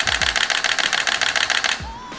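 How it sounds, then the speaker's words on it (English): A DSLR camera in high-speed burst mode fires a rapid run of about a dozen crisp shutter clacks, loud and close, then stops. "Listen to this DSLR that I have here. This is the high-speed shooting shutter."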